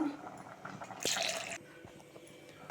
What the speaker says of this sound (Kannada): ಹಾಕ್ಬಿಟ್ಟು ಸ್ವಲ್ಪ ನೀರು ಹಾಕ್ಬಿಟ್ಟು